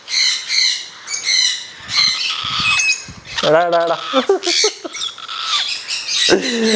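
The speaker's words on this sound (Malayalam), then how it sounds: "ഇണങ്ങിയ തത്തകളാണ് ഇപ്പം എൻ്റെ മേത്തിരിക്കുന്നത്" Tame parrots squawking close by in a shop collection: repeated harsh squawks and shrill calls, some with a rising honking quality, overlapping one another with no pause throughout.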